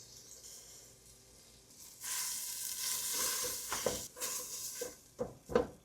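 Butter and flour cook into a roux in a pan over low heat. A soft sizzling hiss swells after two seconds, with a few scraping stirs near the end.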